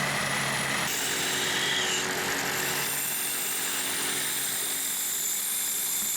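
A wood lathe spins a resin blank with a steady, loud motor whine and rushing hum, the tone shifting slightly as cutting begins and continuing without talk.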